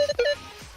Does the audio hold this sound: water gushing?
no